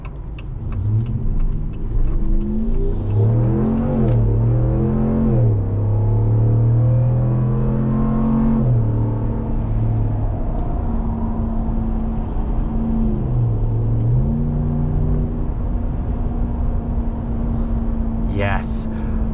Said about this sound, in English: Rams are fitted with the performance or sport exhaust, which means they sound, well, good.